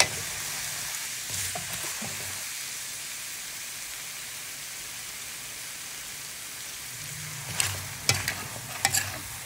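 Carrots and potatoes sizzle steadily in a frying pan with fish sauce, a dense hissing crackle like rain, broken near the start and end by clinks and scrapes of stirring, close and with no talk.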